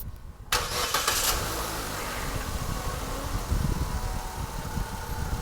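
A Chevrolet Spin with an automatic transmission, raised on a jack in a workshop, cranks and fires, then settles into a steady, loud, close engine idle.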